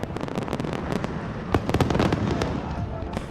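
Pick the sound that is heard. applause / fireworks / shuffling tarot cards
fireworks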